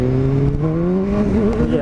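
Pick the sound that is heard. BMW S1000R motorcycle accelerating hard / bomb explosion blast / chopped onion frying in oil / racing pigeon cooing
BMW S1000R motorcycle accelerating hard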